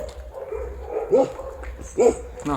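Dogs bark near an old Soviet factory in Romania, two distinct sharp barks about a second apart, fairly close, over low ambient rumble.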